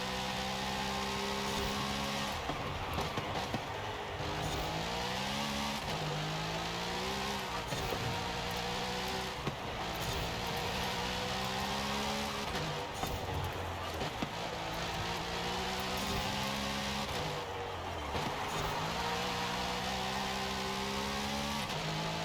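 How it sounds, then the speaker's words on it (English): In the Forza Horizon 5 racing game, a mid-engine Chevrolet Corvette Z06 drives hard, its engine droning steadily and climbing in pitch through repeated gear changes, loud and continuous for the whole stretch. "This is what a mid-engine car should drive like."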